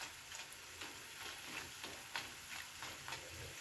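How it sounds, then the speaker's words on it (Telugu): Onion pakodas frying in hot oil, a soft continuous sizzle and bubbling with faint ticking pops, quiet and steady throughout with no talking. "ఇవి మనం క్రిస్పీగా రావాలంటే బాగా ఎర్రగా వేపుకుందాం ఇప్పుడు"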